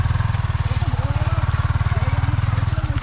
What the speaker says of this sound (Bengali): বাইক পার করছে ওখান থেকে